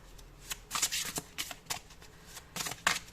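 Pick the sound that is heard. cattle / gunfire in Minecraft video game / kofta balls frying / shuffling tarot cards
shuffling tarot cards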